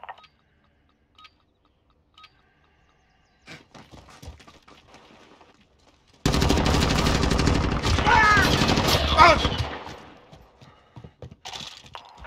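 Heavy automatic gunfire in Call of Duty, a dense loud burst of shots lasting a few seconds after quieter clicks and movement, then fading into scattered sounds.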